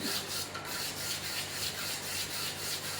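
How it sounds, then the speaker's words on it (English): Low carbon steel is rubbed with a 120 grade abrasive sheet in a lab, a continuous dry rasping scrape with a steady back-and-forth rhythm, close and fairly loud with no talking. "So we are polishing the low carbon steel."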